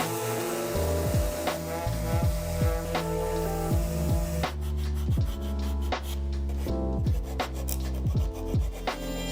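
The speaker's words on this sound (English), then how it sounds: "now I'm going to sand both of these boards" Wooden boards are sanded by hand, a close, steady rasping rub in repeated strokes that carries on through the whole stretch.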